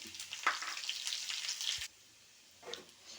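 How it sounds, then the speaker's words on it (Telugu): Mustard seeds, dried red chillies, garlic, onion and curry leaves hiss in hot oil for a tempering, a bright crackling sizzle that cuts off abruptly, then returns faintly, close and quiet. "ఆవాలు వేసుకోవాలి ఎండుమిర్చి వెల్లుల్లి ఆనియన్ కరివేపాకు"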